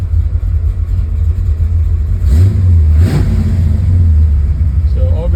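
The 383 V8 in a 1972 high-performance Camaro idles while warming up, a loud, steady low rumble close by, with two brief rises in revs midway through.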